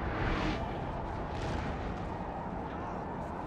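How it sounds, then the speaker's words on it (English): Artillery in the video game Napoleon Total War rumbles as a low, muffled roar of distant cannon fire, a steady dull wash with slight swells, no distinct individual shots. "Wait, that artillery is already shooting us?"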